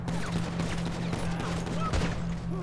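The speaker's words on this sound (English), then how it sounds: "Why'd he shoot me?" A burst of gunfire in the video game GTA Online, several rapid shots over a constant low game hum, moderately loud and close, with scattered background game noises.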